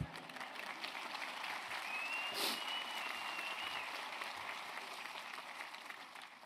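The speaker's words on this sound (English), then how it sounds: "I thought you would clap." Moderate applause from a university graduation ceremony audience, a steady wash of clapping that holds for several seconds, with no voices over it.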